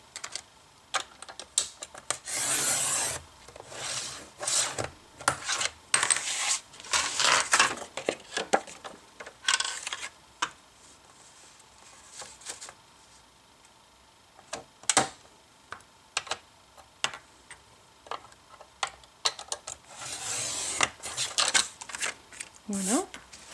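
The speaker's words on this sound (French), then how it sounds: "Et ici je vais découper un carré de 10 cm par 10 cm." Cutting a 10 cm square from cream-coloured card stock, with bursts of crisp snipping and paper rustling between pauses, close and fairly quiet.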